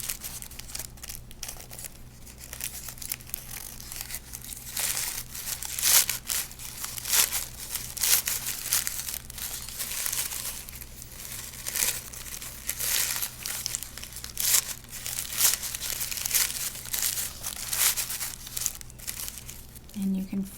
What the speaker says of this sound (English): just one layer of tissue paper at a time, just pulling it gently towards the center.